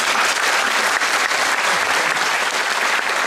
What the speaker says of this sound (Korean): 역시 마무리는 오늘의 사회자이셨던 안희정 기자님께 박수 부탁드립니다.